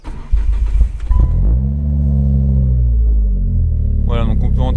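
Ford Focus RS five-cylinder engine cranking and firing up, catching with a loud burst then settling into a steady, deep idle rumble that holds close and strong, with a short higher-pitched whir near the end.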